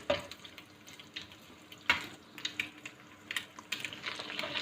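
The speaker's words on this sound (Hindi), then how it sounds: "दो मिनट तक चिकन को इसमें थोड़ी तेज़ आंच पे हम पकाएंगे" Chicken fries in a pan over high heat for a spaghetti dish, a hissing, watery sizzle with scattered pops and clatters of a utensil against the pan, close and steady throughout.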